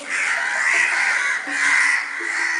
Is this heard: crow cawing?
yes